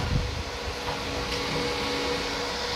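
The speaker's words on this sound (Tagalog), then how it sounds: "Lahat ng blower gumagana na" Cooling fan blower inside a power amplifier with a modified SMPS power supply, running as a steady broadband whir with a faint hum, continuous and even throughout, no voices.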